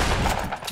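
A short, loud burst of gunfire in Fortnite, a rapid fusillade of shots packed into under a second, close and alone without talk.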